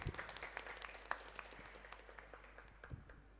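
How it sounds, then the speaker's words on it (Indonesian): Quiet, scattered clapping from a school audience at a student council candidate debate. Sparse individual claps patter at a distance and gradually thin out. "Beri tepuk tangan untuk semua kandidat."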